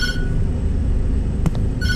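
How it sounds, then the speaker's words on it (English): A telephone rings in the Tattletail horror game, a harmonic electronic trill that stops briefly before a short click and then starts again, loud over a low rumble. "Hey, don't answer the phone."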